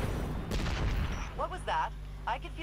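Gunfire in the shooter Destiny 2, with a dense burst of shots in the opening second followed by scattered booms under excited talk from players.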